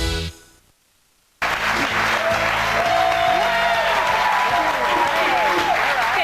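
A morning talk-show studio audience applauds loudly and continuously after a short silent gap, with faint music and overlapping speech mixed in.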